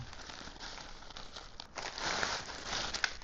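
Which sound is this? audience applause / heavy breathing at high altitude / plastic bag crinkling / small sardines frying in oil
plastic bag crinkling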